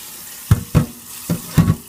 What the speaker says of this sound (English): Gonna rinse it off really well.